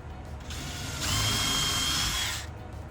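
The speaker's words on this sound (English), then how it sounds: "So I've already got my drill out." A handheld power drill runs in short bursts, first a brief spin and then a steady whir of about a second and a half, close and clear in a quiet room during a window crank and closer project.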